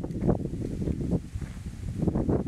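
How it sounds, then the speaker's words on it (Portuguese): Wind is blowing dust up outdoors on a forest logging route, a steady, loud, rough roar buffeting the microphone with low rumbling surges throughout. "Olha o vento levantando poeira aqui."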